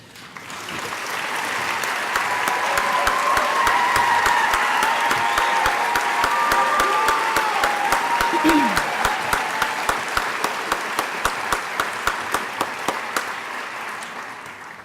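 A crowd at the O'Neal School Class of 2016 commencement ceremony breaks into sustained applause that swells and holds, with a few louder individual claps standing out toward the end and a faint voice underneath.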